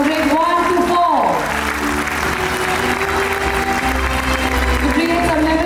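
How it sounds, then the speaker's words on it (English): A school annual day crowd applauds its grade 1 to 4 winners, a continuous wash of many hands clapping that runs beneath a voice speaking and holds steady for several seconds. "A round of applause for all our winners from grade 1 to 4."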